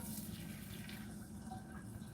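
Brownish liquid for Sierra Leone banga soup pours into a pan, a faint, steady trickling wash with no talking.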